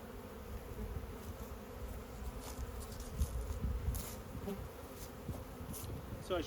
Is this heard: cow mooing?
no